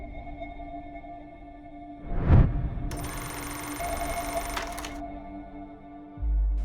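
A telephone rings for an incoming call to a police station, a bright electronic ring holding for a couple of seconds after a short swelling whoosh, then a low thump at the end.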